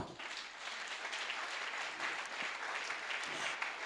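A church congregation applauding in acclaim of the Lord, dense continuous clapping from a large crowd that fills the room for several seconds.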